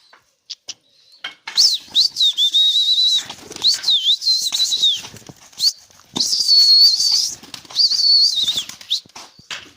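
Pet birds in a home aviary, a mother and three chicks, chirp and flutter close by in repeated bursts of high, whistling calls separated by brief pauses.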